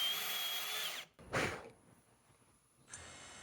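Power drill boring a hole in wood, a brief high whine followed by a short burst of bit cutting, then a quieter steady tone, heard alone without voices.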